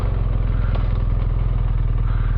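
A BMW GS motorcycle engine idles close by with a loud, even, pulsing rumble and a light mechanical clatter, no voices.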